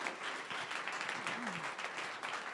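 Audience at a startup pitch event breaks into dense, sustained applause, many hands clapping together while a voice speaks faintly underneath.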